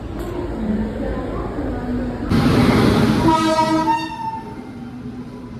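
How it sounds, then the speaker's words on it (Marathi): A Jan Shatabdi Express passenger train rumbles loudly nearby as it departs Mumbai while a horn sounds in a long tonal blast; voices murmur in the background. "एक तासाच्या उशिरानंतर आता ट्रेन सुटली आहे"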